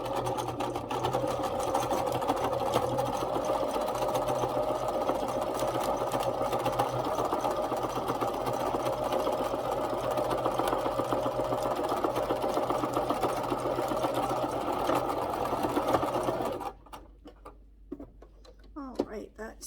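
A sewing machine stitches fabric in a steady, rapid mechanical whir for about seventeen seconds, then stops, leaving near quiet with a few small clicks; a person talks over parts of it.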